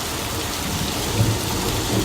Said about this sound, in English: Now I'm pushing button number 2, which should activate our special effects rain grids.